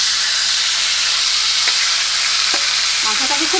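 Goat meat dropped into hot oil for a Bengali-style goat curry sizzles with a loud, steady, close hiss and crackle, small pops and scrapes of stirring near the end.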